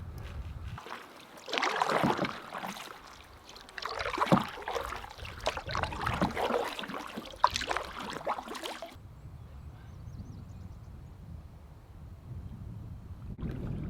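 A canoe paddled up to a lakeside campsite in the Boundary Waters, with splashing paddle strokes and water sloshing against the hull, then quieter lapping water as the boat glides in.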